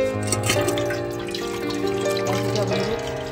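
Water running from a turned-on tap splashes and trickles steadily at close range, with a low hum underneath and faint background sounds.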